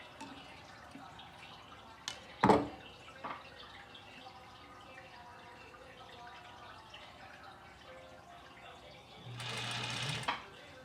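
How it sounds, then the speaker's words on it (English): A sewing machine top-stitches fabric on a washable face mask, whirring in one short steady burst near the end after a few scattered clicks and handling taps in a quiet room. "I'm going to top stitch 1/4 of an inch all the way down."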